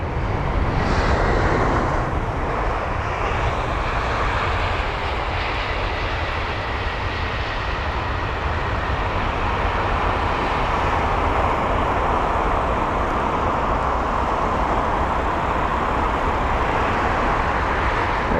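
Jet airliners at London Heathrow airport, one of them an Egypt Air 777 heading toward runway 27 left, make a loud, continuous engine roar that holds steady throughout, with no talk.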